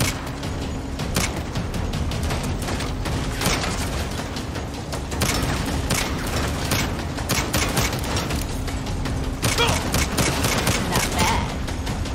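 Turret gunfire rattles in steady, dense bursts during Saints Row gameplay, close and loud over engine and mechanical noise, with a few harder cracks standing out.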